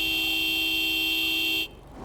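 A steady car horn blares continuously in the State of Decay 2 video game, loud and sustained for over a second before cutting off abruptly into quieter background noise.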